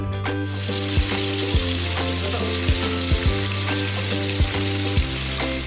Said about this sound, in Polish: Zrazy podsmażymy na rozgrzanym oleju lub maśle klarowanym